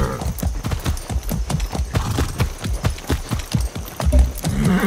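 Steady, rhythmic clip-clop of horse hooves in the video game Far Cry 6, close and loud, with a brief snort or whinny near the end; no speech.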